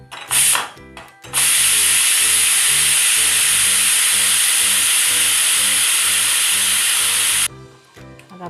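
Steam hisses loudly and continuously from a pressure cooker of mung dal curry as the pressure is released after one whistle, after a few short clicks at the start, then it stops abruptly.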